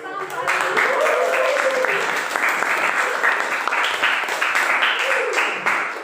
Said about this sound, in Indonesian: oke, tepuk tangan Pak Adi.